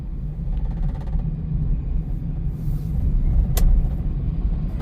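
A vehicle on a road at night near Chilla Dam in Rajaji Tiger Reserve, a low engine rumble that swells and passes close by, steady and fairly loud, with a brief sharp mechanical squeak partway through.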